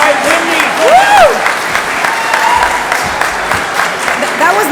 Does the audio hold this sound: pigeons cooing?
no